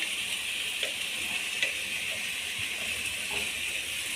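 Ground tomato paste sautéing with ginger garlic paste in a pan for a pasta bread masala, giving a steady, even sizzle that runs throughout at moderate loudness with no talking.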